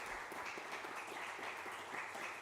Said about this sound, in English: let's give Savannah a round of applause and gratitude